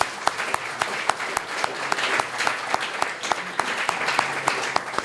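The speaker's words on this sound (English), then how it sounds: "so applause for Sarah Stewart." Conference audience applauding steadily, a dense wash of many hands with a few sharp, close claps standing out rhythmically above it.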